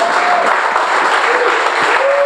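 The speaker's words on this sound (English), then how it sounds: "we're going to give them a big round of applause" An audience at a comedy showcase in a civic theatre applauds steadily for the comedians, a dense, even wash of clapping with a few faint voices mixed in.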